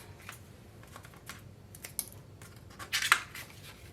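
Scissors snipping the 90-degree corners off paper album pieces, a few soft scattered cuts followed by a quick louder run of crisp snips near the end, with no talking.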